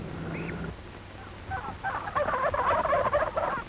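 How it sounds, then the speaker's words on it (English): A turkey gobbler loose outside the fence of a turkey yard on a 1930s poultry farm gobbles in a rapid, warbling burst that rises in the second half, preceded by a brief tonal call and low hum. "He hears a turkey gobbler who flew over the fence of the turkey yard."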